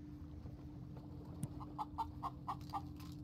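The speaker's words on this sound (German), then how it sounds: "Ah, da war ein Huhn!" In the video game Garry's Mod, a chicken clucks in a short series of about six evenly spaced clucks, faint and alone over a low steady hum.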